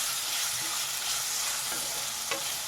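Potatoes and okra fry in oil over a high flame, giving a steady, dense sizzle throughout with a few faint stirring clicks, close and continuous.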